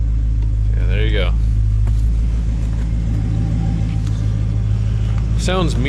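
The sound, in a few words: 1966 Ford Galaxie 500 XL engine running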